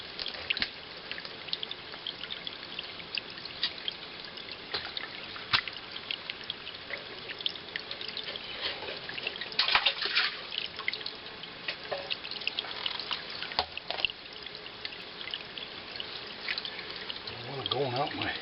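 Blobs of wet bentonite poured into the water of a springbox, giving steady splashing and trickling with scattered drips and plops, close and moderately loud throughout.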